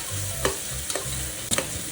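Onions frying in oil and ghee for a masala ghee rice, a steady close sizzle with three quick spatula scrapes and stirs against the pan, no voices.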